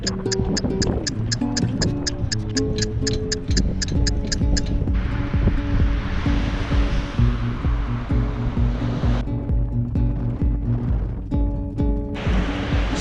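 Atlantic surf rolling onto Sandbridge Beach in Virginia Beach, a steady loud wash of breaking waves, with rapid ticking and a musical tone layered over it at times.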